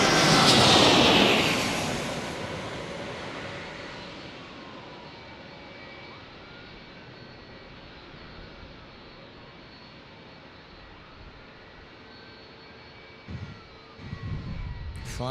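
An arriving airplane flying overhead, a loud roaring engine rush at the start that fades into a long distant drone, with a short burst of nearby noise near the end.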